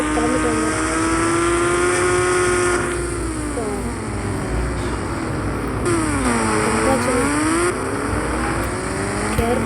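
Car driving to the airport: a loud, steady engine drone heard from close by, its pitch rising and falling as the car speeds up and slows down.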